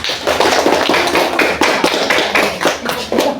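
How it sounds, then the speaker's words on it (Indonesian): Applause from a classroom of students for a group's work, steady dense clapping throughout, fairly close and loud, with no talking. "Beri aplaus untuk kelompok 2."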